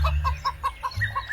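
Hen clucking in a series of short, evenly spaced calls, fairly close, with a low steady hum underneath and no voices.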